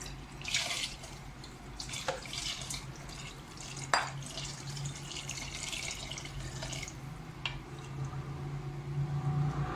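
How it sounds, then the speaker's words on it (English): Water pours and splashes steadily into a pot of raw rice, with a few sharper drips and clinks over a low hum. "now you add water."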